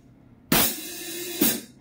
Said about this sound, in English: You have to lift your foot while you hit the hi-hat together like this.